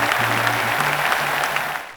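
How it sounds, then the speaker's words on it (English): A short burst of crowd applause, dense and steady with a faint tonal sound underneath, fading slightly at the end. "I want to hear some deserved applause"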